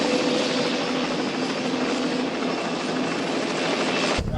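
A helicopter flies steadily nearby, its loud rotor and engine roar continuous and unbroken throughout before cutting off abruptly at the end.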